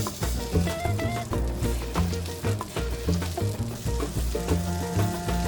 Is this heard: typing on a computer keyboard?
no